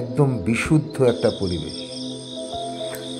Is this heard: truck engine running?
no